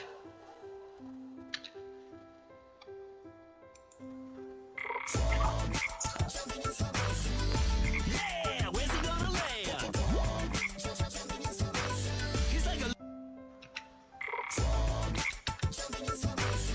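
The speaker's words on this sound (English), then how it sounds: "Frog leaps." A frog croaks in loud, rapid, rasping bursts that fill most of the stretch, with a quieter tonal passage at the start and a brief pause partway through.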